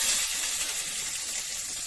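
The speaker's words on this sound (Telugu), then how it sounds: "ఆనియన్స్ కొంచెం ఫ్రై కావాలి." Onions frying in oil with tempering spices give off a steady, even sizzle and hiss that stays close and constant throughout, with no voices over it.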